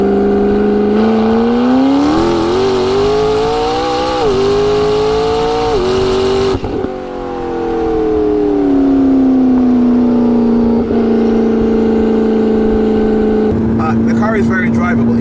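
McLaren 12C sports car tuned to 840 hp accelerating on a mountain road, a loud engine note rising through the gears with a brief dip around a shift, then a steady drone, with talk over it.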